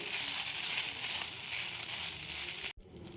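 Vermicelli frying in ghee left over from frying dry fruits, a soft steady sizzle and crackle heard close, then a sudden brief cut near the end.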